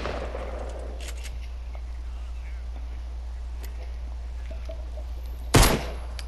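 A single loud Fortnite gunshot cracks out near the end, sudden and close, over a steady low electrical hum with faint background noise before it.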